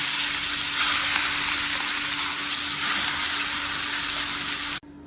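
Ground chutney sizzling in a hot mustard-seed tempering, a continuous close bubbling hiss with light stirring that cuts off abruptly near the end.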